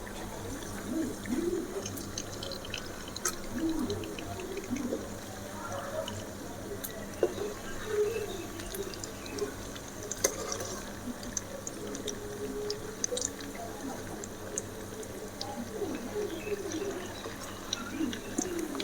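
Mayavaram-style meal maker (soya chunk) vadai fry in hot oil with a soft, continuous crackle and bubbling sizzle, scattered pops standing out at a moderate level throughout.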